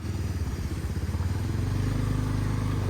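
A motorcycle being ridden, its engine throbbing low and steady up close, the pulsing note rising slightly and smoothing out as it pulls along.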